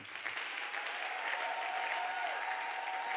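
Sustained applause from a church congregation at an evening worship service, a dense continuous roar of many hands clapping, fairly distant and even, with faint voices mixed in.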